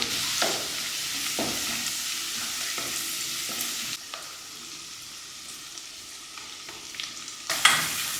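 Green chilies fry in a pan for fish curry, a steady sizzle broken by intermittent stirring scrapes and clicks, loud and close with a fresh burst of sizzling near the end.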